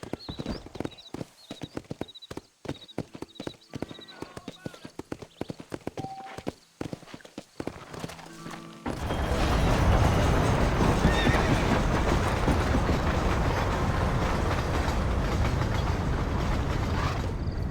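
A horse in the Red Dead Redemption video game trots with rhythmic hoof clip-clops and whinnies, then breaks into a loud, continuous rumbling gallop.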